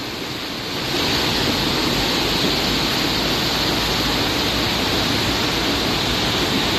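A swollen river in Misantla, Veracruz rushes loudly with steady, dense broadband roar after a brief quieter start, continuous and close, with no voices.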